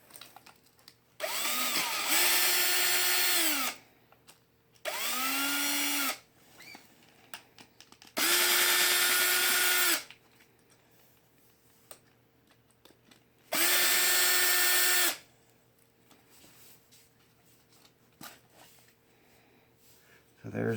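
A power drill whirs in four separate bursts of a few seconds each, backing out the five differential back-cover bolts on an X-Maxx RC truck, loud and close, with quiet gaps between runs.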